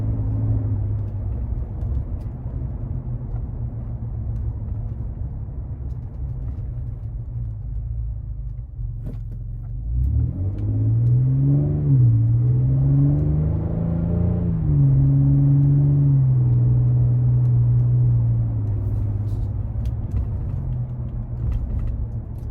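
Ford Ranger Raptor exhaust in normal driving mode: a steady low rumble from inside the cabin that swells and climbs in pitch as the truck accelerates midway, then settles back into a constant drone, with no talking.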